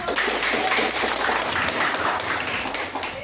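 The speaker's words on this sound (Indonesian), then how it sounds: "Oke, tepuk tangan." Applause from a classroom group after a student presentation on lymphedema chest inspection, dense and fairly close, steady for a few seconds with no talk.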